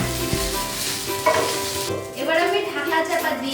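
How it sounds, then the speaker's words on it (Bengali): Pasta mixed with tomato ketchup and tomato sauce fries in a covered pan over a low-to-medium flame, giving a steady close sizzle with scraping stirring strokes throughout. "এবার আমি ঢাকা চাপা দিয়ে লো টু মিডিয়াম ফ্লেমে পাস্তাটাকে 3 মিনিট ভেজে নিয়েছি।"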